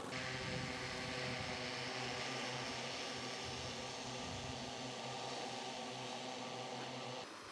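A steady, loud droning whine of an agricultural multi-rotor drone flying over a rice paddy runs throughout, with constant tonal hum and no talking, cutting off at the end.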